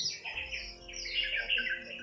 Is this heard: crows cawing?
yes